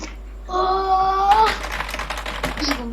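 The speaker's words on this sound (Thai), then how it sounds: "คุณอาจจะได้ยินเสียงแป้นพิมพ์ผมกดก็เป็นไปได้" Clacking keys on a computer keyboard, a rapid burst of close taps following a brief tonal sound, with a voice heard near the start.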